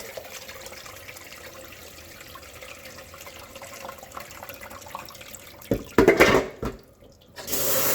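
Tap water runs steadily into a pot of rice being rinsed, a soft continuous wash of flowing water that swells into louder splashing and sloshing near the end.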